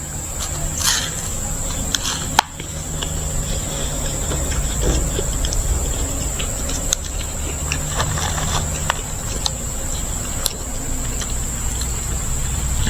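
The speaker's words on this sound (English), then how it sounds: "Right now it's crickets and birds and me munching on food." Crickets and birds chirp in a quiet outdoor spot in Glendale, a steady high insect trill running throughout with scattered faint bird calls and occasional small clicks and rustles close by.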